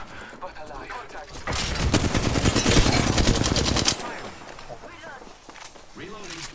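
Call of Duty gunfire rattles in a dense automatic burst for a couple of seconds, with scattered shots and game sounds before and after and a voice talking over it.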